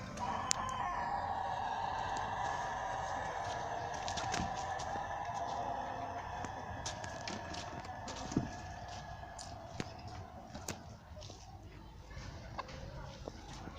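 A rooster crows in the distance over a soft outdoor background after rain, with faint clucking from a mixed flock of chickens and occasional small knocks nearby.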